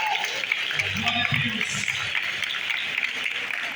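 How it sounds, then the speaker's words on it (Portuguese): Church congregation applauding at an evening service, a continuous wash of clapping hands with a voice speaking over it. "Você pode aplaudir ao Senhor nessa noite com essa palavra."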